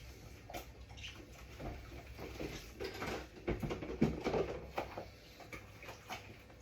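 Running water splashes steadily as a large landlord's mixing bowl is washed in a kitchen, with soft patters and clinks of the bowl under a continuous, moderately quiet flow.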